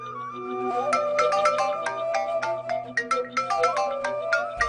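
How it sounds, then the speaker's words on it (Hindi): A phone ringtone plays loudly and alone, a bright repeating melodic tune with steady rhythm lasting several seconds, set in a tense Hindi drama scene. "किसका फोन आ गया?"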